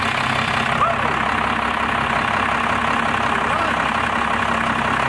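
A first-generation Cummins diesel truck engine, fitted with a new fuel pin and governor spring, idles steadily with a continuous rough low rumble close by.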